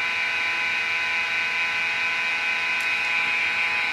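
A homemade pulse motor runs at a steady pace, giving off a constant high-pitched whine and hum with no variation throughout.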